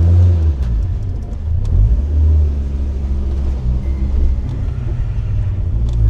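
Audi car engine rumbling and revving as it pulls away, a steady low drone with rising and falling throttle, close and loud with no voices.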